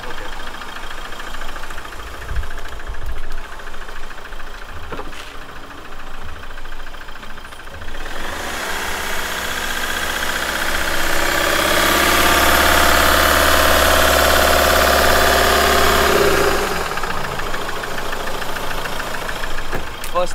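A used car's engine idles with a low, uneven rumble, then is revved up to a loud, sustained roar for several seconds before dropping back to idle.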